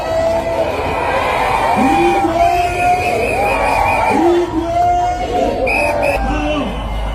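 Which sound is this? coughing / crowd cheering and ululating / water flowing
crowd cheering and ululating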